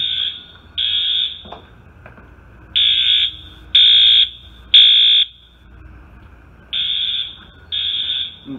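An industrial fire alarm system under test sounds in loud, steady high-pitched horn blasts of about a second each, seven in all, with short gaps and a longer pause in the middle, over a quiet background.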